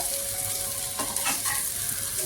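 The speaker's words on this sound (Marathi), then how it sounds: "5-6 हिरव्या मिरच्या आहेत कच्च्या, त्या मी घालते आणि त्या देखील व्यवस्थित कांद्यासोबत फ्राय करून घेते" Onions, cashews and green chillies frying in a pan for Hyderabadi paneer, a steady close sizzle with faint stirring scrapes near the middle, no talking.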